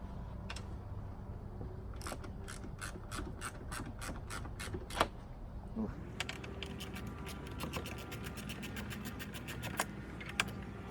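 A ratchet driver with a T50 Torx bit works on a door hinge bolt of a 2019 Jeep Wrangler JL. Two runs of quick, crisp clicks play close by over low background noise, with a few sharper knocks.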